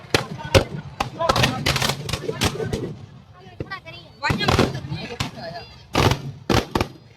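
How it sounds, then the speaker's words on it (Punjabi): Firecrackers burst from a Dussehra effigy in rapid, irregular volleys of sharp loud cracks, several in quick succession, with a short lull in the middle and voices underneath. "ਪੈਣ ਲੱਗ ਪਏ ਪਟਾਕੇ ਵਿੱਚੋਂ"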